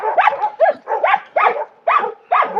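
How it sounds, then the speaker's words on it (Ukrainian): Dogs barking close by in a run of six sharp, evenly spaced barks, loud and clear, with short gaps between them and no talk. "Що вони гавкають?"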